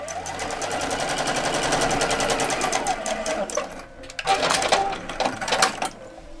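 A sewing machine stitches the seam of a drawstring bag with a quarter-inch seam allowance, a fast steady mechanical whirr close by that pauses briefly and then runs again, with someone talking over it.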